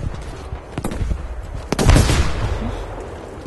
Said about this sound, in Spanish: Pasada las malditas explosiones, tío.